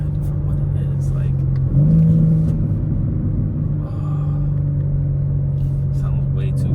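A BMW G80 M3 with an exhaust valve controller idles and revs lightly with a deep steady drone, one brief rise in pitch, under heavy wind noise.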